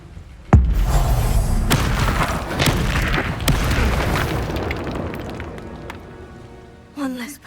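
A loud Confringo fire spell explosion in Hogwarts Legacy, a sharp blast that rumbles and crackles for several seconds before fading, with a second smaller burst at the end and a voice under it.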